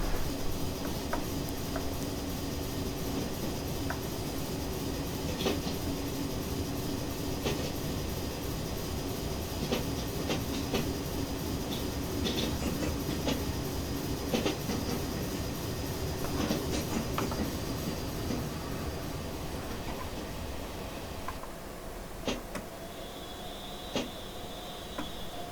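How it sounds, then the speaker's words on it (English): A Swiss Limmat D 1/3 4-2-0 steam locomotive in Train Simulator Classic runs quietly, with a continuous rolling rumble and light rhythmic clicking of wheels on rail throughout, plus a faint whistle-like tone near the end. "It's a fairly quiet locomotive."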